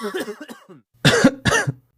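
A man coughs on waking: an early stretch of muffled vocal sounds, then a pause and two loud, harsh coughing bursts close to the listener.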